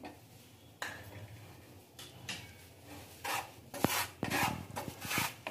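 Wheat flour roasting in ghee in a pan for karanji filling, heard as scraping, rubbing stirs and light clinks of a spoon against the pan, irregular and close.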